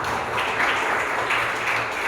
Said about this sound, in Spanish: Démosle ese aplauso a Dios.